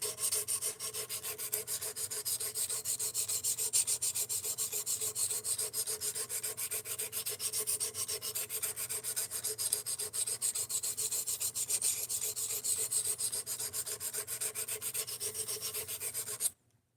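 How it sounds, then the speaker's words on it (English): A knife edge is drawn across a sharpening stone in a continuous, even rasping rub that holds steady and close for the whole stretch before stopping abruptly at the end. "I just want to see how good of an edge this can take"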